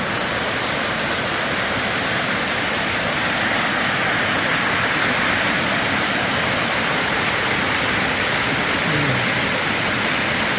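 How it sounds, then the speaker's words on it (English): A waterfall cascades down a mountain along the Appalachian Trail in New Hampshire or Maine, a loud, steady, close rushing roar with no pause. "this is just cascading waterfalls that just keeps coming down the mountain"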